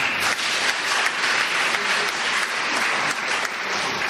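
An audience applauds someone's work supporting girl-child education in a Ghanaian municipality. The clapping is dense and steady, from many hands, and stays loud throughout with no speech.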